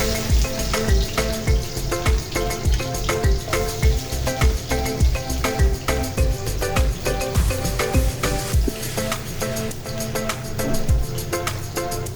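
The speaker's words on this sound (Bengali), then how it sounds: "এখন দিয়ে দিব পেঁয়াজ কুচি।" Chopped onion tossed into a hot pan with bay leaf, frying for a liver and lung curry, gives a dense, steady sizzle with scattered crackles and a few clanks of a utensil against the pan, close by and without speech.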